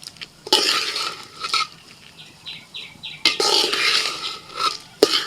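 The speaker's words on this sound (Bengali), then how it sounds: "চালটাকে 2 মিনিট নাড়াচাড়া করে একটু হালকা করে ভেজে নেব সবজির সাথে।" Rice stirred and lightly fried with vegetables in a pan, with a spoon scraping and clinking in bursts over a soft sizzle, close and fairly loud.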